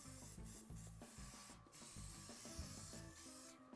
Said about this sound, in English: So I'm gonna spray this pan really, really well.